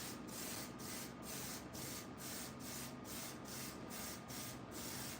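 Gray base coat sprayed from an aerosol can onto a PS5 controller, a steady close hiss broken by short regular pauses as the nozzle is pulsed, with no talking.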